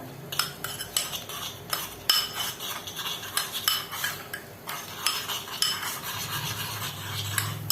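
A metal spoon stirs French onion soup in a cooking pot, scraping and clinking against the sides in quick irregular strokes, close and moderately loud, with no talking.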